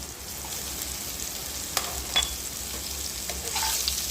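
Bitter gourd and onion fry steadily in a pan with a soft, continuous sizzle, with a few faint stirring clicks and scrapes along the way.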